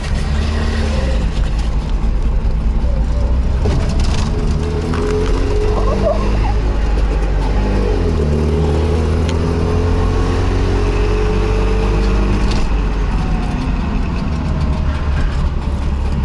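A Chrysler limousine, its brake pads and electrics worn from standing, drives along with a loud, steady low engine and road drone and some creaks and rattles over it.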